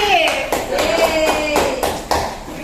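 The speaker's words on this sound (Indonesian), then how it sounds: "Tepuk tangan kuda." A primary school class claps together in a patterned rhythm, with a few sharp group claps spaced through a short burst while children's voices sing or chant over it.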